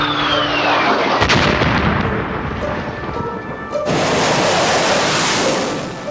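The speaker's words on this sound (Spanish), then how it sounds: "Las explosiones rodean el Banco Central cuando la Fuerza Aérea Norteamericana bombardea" Explosions from US Air Force bombing in Kabul boom around the Central Bank, loud rumbling blasts with sharp impacts and a rolling roar, a second heavy burst near the middle, no voices.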